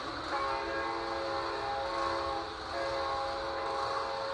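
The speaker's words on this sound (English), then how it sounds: "Do you hear the train?" A train rolls past close by with a steady rumble and sustained horn blasts layered over it, continuous for several seconds with a slight dip midway.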